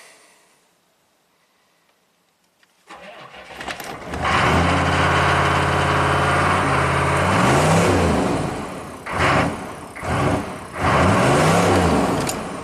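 A Chevy 6.5 turbo diesel truck engine with a throttle fault starts from silence, then revs hard and runs high for long stretches, with rising and falling surges and brief dips, loud and close with no talk.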